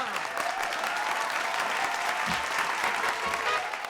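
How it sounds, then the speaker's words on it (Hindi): An audience at a Hindi stand-up comedy show breaks into applause, a dense, steady wash of clapping from a crowd filling the room, continuous throughout with no speech. "तालियां"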